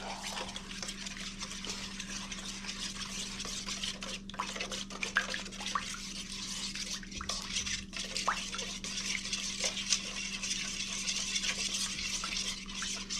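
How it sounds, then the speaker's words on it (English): A spoon stirs a slightly wheat sourdough bread mixture in a bowl, giving a steady, close scraping and squelching texture that runs without a break for the whole stretch, over a faint low hum and with no talking. "just gonna take our little spoon there and mix that all together real quick"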